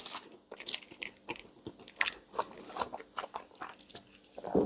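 A close, crisp bite into a Greggs Yum Yum glazed pastry, followed by several crunchy, sticky chewing sounds in an irregular rhythm, heard alone without talk.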